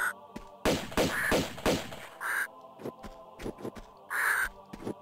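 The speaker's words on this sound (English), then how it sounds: "Where's that fucking bird?" A crow in the remastered video game Tomb Raider 2 caws several times, sharp and close, separated by clicks, thumps and game effects, with no talking.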